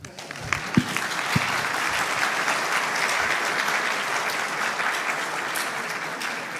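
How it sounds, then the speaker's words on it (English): Audience applause at a tech conference talk on security, a steady broadband wash of many hands clapping that swells in after a couple of sharp claps and holds evenly to the end, with no talk over it. "okay, now you can clap."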